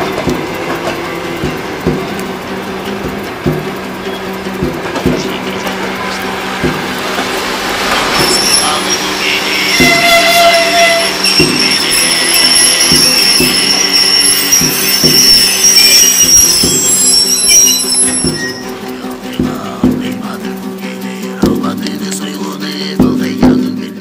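Passenger train rolling on rails, with a regular clack of wheels over joints and a long metallic wheel squeal that rises in the middle, loud and close from inside the carriage.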